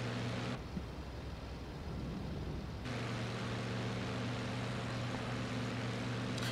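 A BF-109 engine in Il-2 Sturmovik drones steadily with the throttle eased back. The tone drops briefly and then returns to a fuller, loud, continuous roar.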